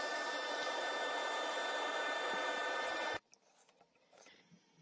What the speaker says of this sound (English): what I'm doing here is this is a very tiny rotary ball